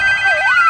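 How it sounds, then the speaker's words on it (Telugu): A phone ringtone sounds in a home setting: a loud, steady electronic tone with a brief dip and rise in pitch, heard alone for under a second with no talking. "అరవడానికున్న ఓపిక ఫోన్ తీయడానికి లేదా బబ్లు నీకు?"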